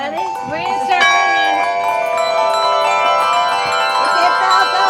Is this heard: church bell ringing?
yes